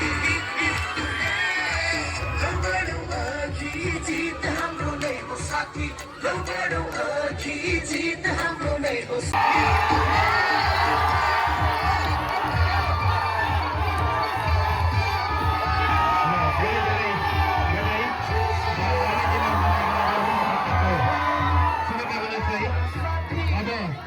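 A crowd at a football tournament prize-giving, the final of a mayor's cup, with continuous clapping, cheering and excited shouts mixed with chatter and a voice over the noise throughout.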